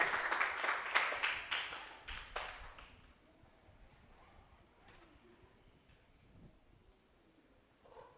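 A church congregation's applause rings out in a burst of distinct claps, then tapers off after a few seconds into a quiet, hushed room.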